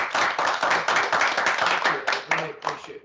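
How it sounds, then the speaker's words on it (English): Audience applause at the close of a talk at RMIT, a few seconds of brisk, fairly close clapping from a modest crowd, with the individual claps audible as an uneven patter and a voice briefly heard underneath. "A round of applause for Bennett."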